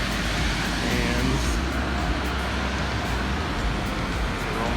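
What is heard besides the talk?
automatic car wash washing a truck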